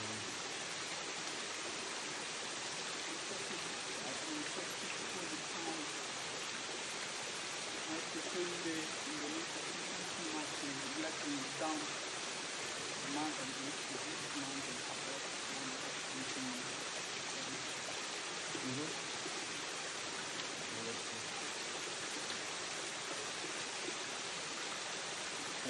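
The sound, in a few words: waterfall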